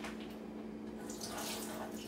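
Water pours out of a bowl of raw hamburger meat into a kitchen sink, a steady close splashing trickle that swells slightly toward the end, with no talking.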